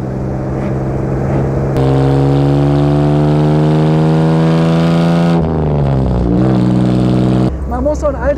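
A 1954 Jaguar XK 120 OTS roadster engine running while driving, a steady loud mid-pitched drone that rises in pitch as it accelerates, shifts, then settles, with a brief voice at the end.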